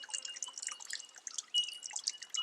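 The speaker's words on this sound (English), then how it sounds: "You can see the water's coming through the outside of the bag here" Water drips and trickles through a cloth filter bag while sediment is pre-filtered out, making a soft, continuous patter of many small, irregular drops.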